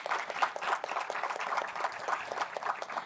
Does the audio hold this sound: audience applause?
yes